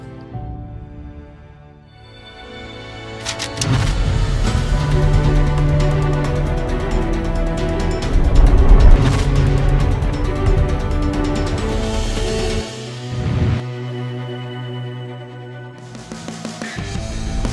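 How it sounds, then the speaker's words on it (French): Mars lander thrusters fire at full power during descent to the red planet, a dense roaring rumble that swells, holds steady and surges before cutting off near the end, with no talk. "Le bruit que vous entendez, ce sont les propulseurs qui donnent tout ce qu'ils ont."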